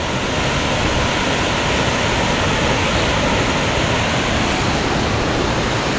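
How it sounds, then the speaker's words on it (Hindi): Steady broadband roar of a waterfall on the Churdhar trek in Himachal, loud and continuous from start to finish with no voices over it. "ये देखिए वाटरफॉल।"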